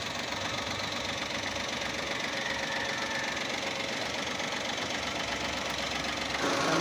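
A 2024 Toyota Wigo automatic idles with a misfire, giving a steady, close mechanical chatter and uneven rumble that runs on without a break.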